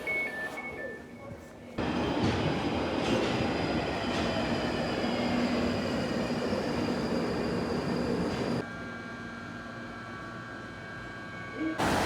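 A train in a UK railway station rumbles and rattles loudly and steadily through most of the stretch, with wheel squeal and rail clatter close by, then the sound drops to a quieter hum as the train eases off.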